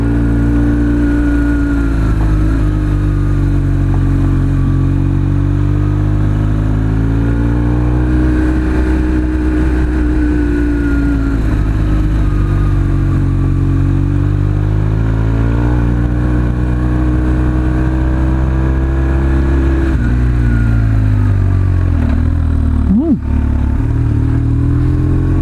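A motorcycle riding on a gravel road in Maryland, its engine droning steadily and loud close to the rider, with pitch rising and falling through gear and throttle changes, and faint talk from the rider.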